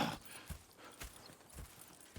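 Faint, regular clip-clop of horse hooves at a slow walking pace in Red Dead Redemption 2, about four soft thuds in a couple of seconds.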